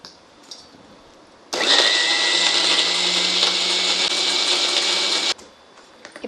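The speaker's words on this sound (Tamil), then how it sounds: "முதல்ல நம்ம வந்து பிரண்டை, இஞ்சி இதெல்லாம் வதக்கினதை போட்டு அரைச்சிக்கிறோம்" A mixer grinder grinds sautéed pirandai and ginger for chutney, a loud steady close whirring drone that starts abruptly, runs for about four seconds alone and stops sharply.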